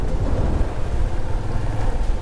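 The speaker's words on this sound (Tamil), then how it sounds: "செம காற்று வீசுது." Strong wind buffeting on an open road between Mannar and Vavuniya, a loud continuous low roar and rush with gusty swells and no speech.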